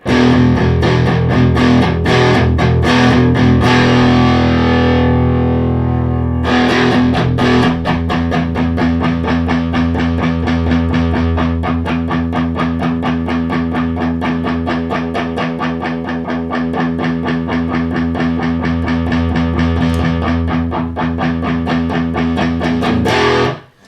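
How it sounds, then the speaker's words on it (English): Loud, heavily overdriven electric guitar through a TC Electronic MojoMojo overdrive pedal with bass turned fully up, giving a deep, booming low end, chords ringing continuously; a brief pause early on before the thick distorted tone returns. "I'll put the bass actually full up, and you'll hear it's a very powerful low end."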